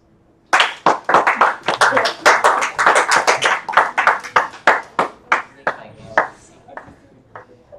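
A small audience bursts into lively applause, many hands clapping fast and close for several seconds before the claps thin out and trail off to a few last scattered ones.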